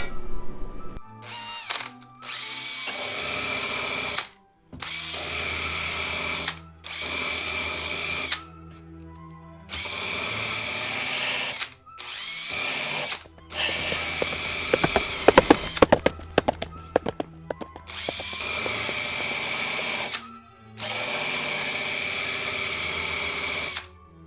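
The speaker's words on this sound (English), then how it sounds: "So I was just using the pin sander" Pin sander working on a broken guitar headstock repair, loud whining bursts of a few seconds each separated by brief pauses, with rattling contact noise mid-clip.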